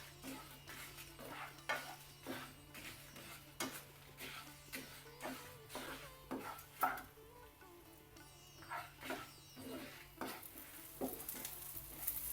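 Coriander seeds and dried chillies roasting in a teaspoon of coconut oil for a Kerala fish curry, stirred with repeated scraping strokes over a soft sizzle, close and moderately quiet, with no talking.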